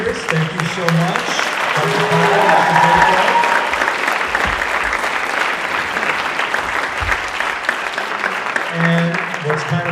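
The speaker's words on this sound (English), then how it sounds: "One more round of applause for everyone." An audience at a high school choir concert claps continuously for several seconds, a dense wash of hand claps with scattered voices calling out over it.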